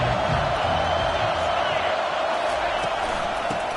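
Steady roar of a stadium crowd in the College Football 25 video game during an Ohio State versus Miami matchup, a constant loud wash of noise with a commentator talking over it.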